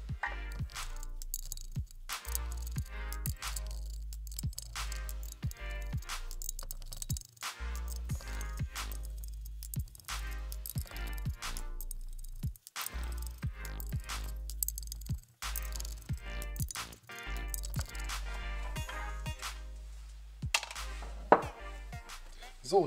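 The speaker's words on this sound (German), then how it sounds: "schrauben die ganzen Schwallbleche einmal raus" Small screws being removed from baffle plates inside an engine valve cover, heard as repeated light metallic clicks, taps and clinks of tools and screws at close range, scattered steadily with quiet gaps.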